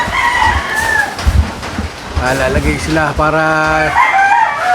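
Game fowl on a farm where birds are being conditioned: roosters crow several times in succession, loud and near, overlapping one another, while someone talks briefly over them.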